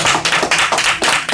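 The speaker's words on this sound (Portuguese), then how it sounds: "Dá-te um aplauso bem forte para o Senhor." Church congregation clapping during a worship service, loud close hand claps in a strong rhythmic pattern of bursts roughly every quarter second, without speech.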